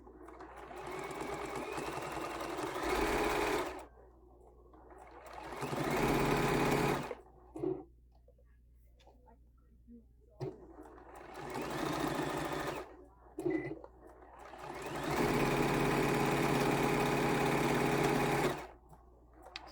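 A sewing machine stitches quilt-as-you-go table runner fabric in several bursts of steady, fast mechanical whirring, separated by quiet pauses, close and fairly loud, with no talking.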